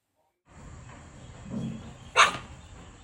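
A puppy gives a single sharp, close bark after a soft low whimper, in an otherwise quiet indoor setting.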